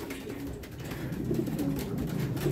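Racing pigeons at a loft during a summer race in Virac, Catanduanes coo in low, soft repeated phrases, steady and close with no talking.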